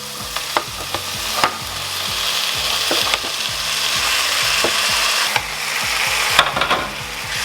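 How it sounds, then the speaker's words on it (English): Tomatoes fry over high heat in a pan for roasted tomato soup: a loud, steady sizzle runs throughout, broken by sharp scrapes and knocks as they are stirred. "What we're doing now is firing our tomatoes."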